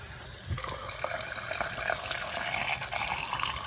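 A makeup brush is swished in a small amount of soapy water, making steady wet sloshing and trickling that runs continuously and close, with no talk.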